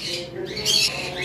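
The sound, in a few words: pet parrots squawking, lovebirds and rosellas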